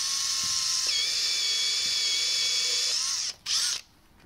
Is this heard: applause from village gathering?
no